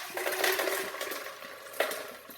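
Liquid and ice pour into a rinsed Vitamix blender jar, splashing and clattering in short bursts with a sharp clink of ice near the end, close and fairly quiet.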